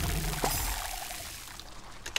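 Water pours from a watering can in the video game Grow: Song of the Evertree, a brief splashing pour with faint chimes at the end, no talk over it.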